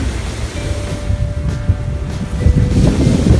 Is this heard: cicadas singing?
no